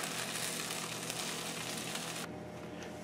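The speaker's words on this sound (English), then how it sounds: "So I'm going to continue frying these on the other side." Salisbury steak patties frying in a pan, a soft steady sizzle and crackle heard close but fairly quiet, with no talking over it.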